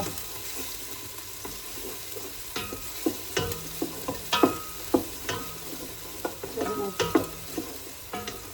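Onions softening in a pot for ravioli soup give a low sizzle, while a spoon scrapes and knocks against the pot in a series of irregular, fairly loud strokes that grow more frequent midway.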